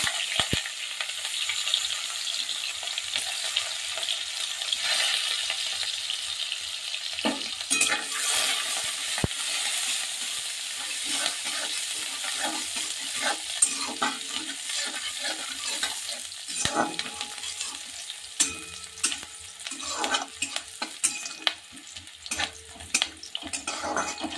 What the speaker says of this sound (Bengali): তেলের মধ্যে দিয়ে দিচ্ছি একটু করে জিরে ফোড়ন, পেঁয়াজ কুচিটা দিয়ে দিলাম